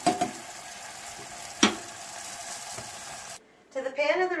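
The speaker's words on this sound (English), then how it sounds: "Remember to stir your onions as they caramelize." Onions cooked slowly in fat in a pan hiss steadily as they caramelize, with a spoon scraping through them and a single sharp knock, before a short pause and renewed scraping.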